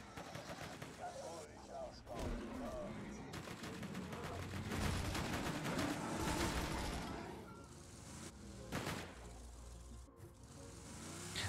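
Rapid weapon fire and blasts from a Borderlands 2 fight crackle in dense bursts, fairly faint, mixed with game effects and a voice talking over the action.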